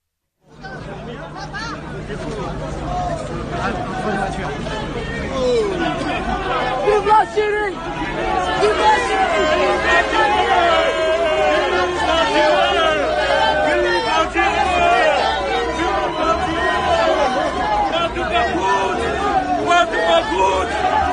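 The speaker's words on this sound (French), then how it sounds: "Écoutez le bain de foule à Oran samedi après-midi" Dense crowd in Oran, Algeria, shouting and chanting around a politician during a walkabout, loud and close, with overlapping voices and rhythmic slogans throughout.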